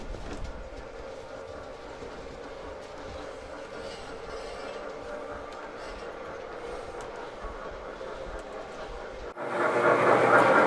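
G-scale garden railway model trains at a model railroad club, a continuous rumbling run of wheels and track clatter throughout, rising to a louder, brighter rush near the end.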